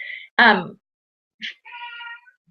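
Cat locked in an office meowing: one loud, drawn-out meow in the middle, with shorter, fainter mews before and after it, close to the microphone in an otherwise quiet room.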